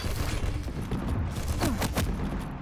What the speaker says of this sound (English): PepCo switched to the shotgun.